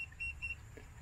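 Electronic keypad on a house's front door beeping, several short high-pitched tones in a quick irregular series over a low background hum, no talking.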